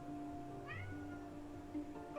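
A cat meows in the Forest Ranger Simulator video game, a short rising meow followed by another brief one, faint and set against a low steady ambient hum.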